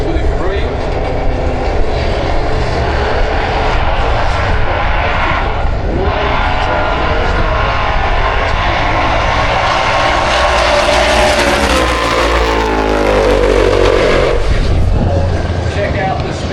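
Ford Capri drag racing car, driven by Tony Higgs, making a run down the strip at Santa Pod Raceway: a loud, continuous engine roar with a rising pitch that sweeps up near the end, under a commentator's voice and crowd noise.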